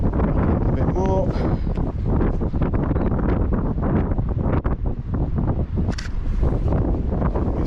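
Gusty wind roars across the microphone outdoors on a cold, wet day, a loud continuous rumble with brief indistinct voice sounds.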